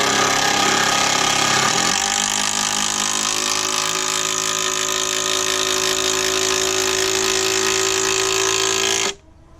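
Power drill driving a timber screw into a wooden raised bed, a loud continuous motor whine that jumps in pitch after about two seconds as the screw bites, then holds steady and stops abruptly near the end.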